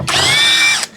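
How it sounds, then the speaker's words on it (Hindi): A countersink drill bit spins up and drills for under a second, a loud, close, high-pitched whine that starts sharply and cuts off, with no talk over it. "counter sink drill"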